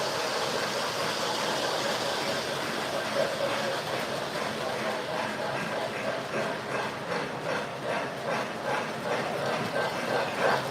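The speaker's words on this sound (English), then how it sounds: "Can you hear the trains also?" Steady mechanical rattling and clicking of Lionel model trains running on track, like small wheels over track joints, continuous and fairly close with a faint rhythmic clatter.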